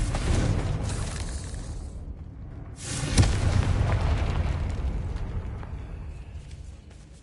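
A Confringo explosion spell in Hogwarts Legacy gives a broad rumbling blast that dips briefly, then a sharp crack and renewed roar that slowly fades, with faint debris-like crackle.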